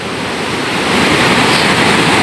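Rough, high sea driven by Typhoon Kristine pounding an eroded shoreline; a loud, continuous roar of crashing surf swelling slightly as it goes, close and overwhelming with wind rush, no voices.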